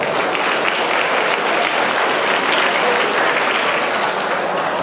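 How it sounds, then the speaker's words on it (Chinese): Loud, dense audience applause at a school alumni reunion gathering, continuous and even for the full stretch. "我们给他一个热烈的掌声好不好"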